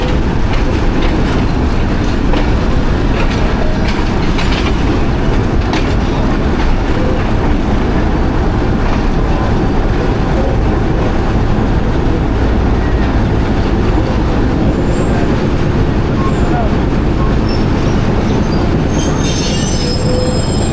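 The Millat Express train runs on rails near Faisalabad, a loud, continuous rumble of wheels with a constant metallic squeal and faint clickety-clack, heard from on board for the whole stretch without talk.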